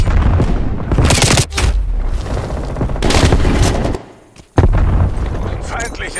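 Gunfire and a grenade blast in Call of Duty Black Ops Cold War on the Nuketown map, with loud bursts of rifle fire, a brief near-silent gap, then a sharp boom and more shots.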